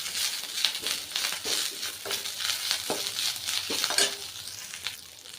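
Curry leaves sautéing in a pan for curry leaf thogayal give a steady close sizzle and crackle, with scraping stirs and occasional light clinks against the pan.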